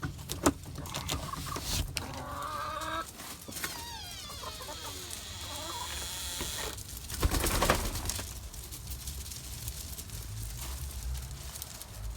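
Backyard chickens clucking and calling as they are let out of their coop, several birds close by with busy, overlapping chatter and a few sharp knocks of the coop door.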